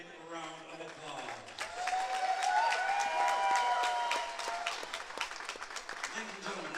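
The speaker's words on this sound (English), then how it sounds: "let's give both fighters a big round of applause." Crowd at a boxing event applauding both fighters, a sustained wave of clapping that swells in the middle and tapers off, with an announcer's voice over it.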